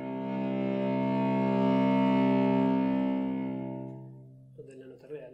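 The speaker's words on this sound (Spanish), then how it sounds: "En el cello, esto es sul ponticello." Cello bowed sul ponticello, near the bridge, holding one sustained, harmonic-rich, slightly glassy tone that slowly swells and then fades, followed by a brief spoken phrase at the end.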